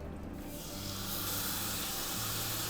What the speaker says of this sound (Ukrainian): посмажити куряче філе. Смажитимемо ми на сковорідці, на великому вогні